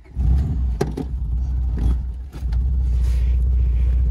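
A crashed Honda Civic, its throttle wedged open with a pipe, cranks and starts, then rumbles loudly at high idle with a few sharp clanks along the way, close to the microphone.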